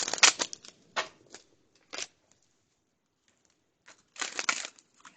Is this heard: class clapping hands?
no